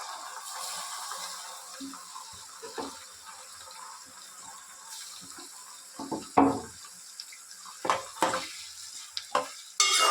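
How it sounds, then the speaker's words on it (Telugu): Tomato pieces tossed into a sizzling brinjal curry, a low steady sizzle with scattered stirring scrapes that grow louder and more frequent toward the end, with several sharp clinks and knocks. "ఇప్పుడు ఇందులో టమాటా ముక్కలు వేసేస్తాం."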